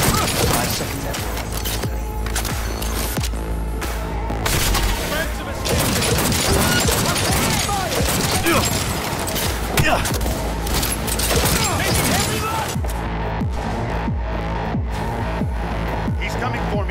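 Minigun fire in the Cyberpunk 2077 video game on PS5, dense and continuous bursts of gunfire mixed with booms and crashes, loud throughout with a player talking over the action.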